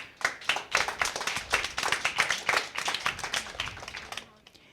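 A school spelling contest audience gives a contestant a steady patter of individual claps from a modest group, with some talk mixed in, tapering off at the end.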